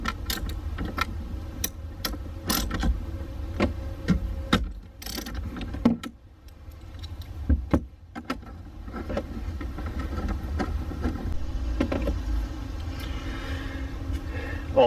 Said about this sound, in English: next disconnect this nut here on the IBS